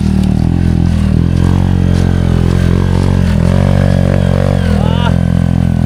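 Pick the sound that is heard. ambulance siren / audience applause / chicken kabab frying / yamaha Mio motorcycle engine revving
yamaha Mio motorcycle engine revving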